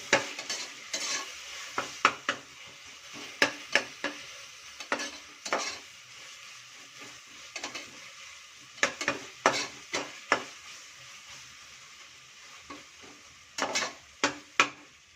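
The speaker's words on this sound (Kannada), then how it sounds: "ಶುಂಠಿ ಬೆಳ್ಳುಳ್ಳಿ ಪೇಸ್ಟ್ ಎಲ್ಲ ಹಾಕಿ ಚೆನ್ನಾಗಿ ಫ್ರೈ ಮಾಡಿ" Ginger garlic paste frying with onions in a pan for pepper chicken, under a steady low sizzle with frequent sharp spatula scrapes and clacks against the metal, close and uneven in rhythm.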